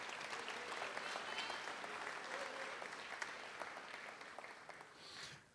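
Sustained applause from a convocation audience honoring School of Education staff, an even, moderately distant wash of clapping that tapers off near the end.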